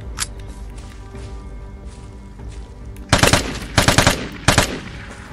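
Gunfire in the video game Vigor: a single early shot, then several loud rapid bursts of automatic fire later on, standing out against a steady background of game ambience.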